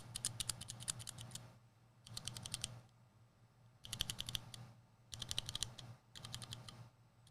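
Gateron Brown switches on a mechanical keyboard being typed on in five quick bursts of crisp, close clicks, each flurry separated by a short pause, with no voices.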